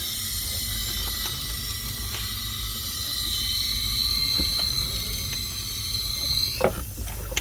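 Compressed air hisses continuously into an engine cylinder with the valves shut, a steady sharp hiss close by with faint mechanical clicks, ending in a few louder knocks.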